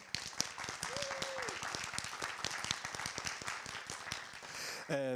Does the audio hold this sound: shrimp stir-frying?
no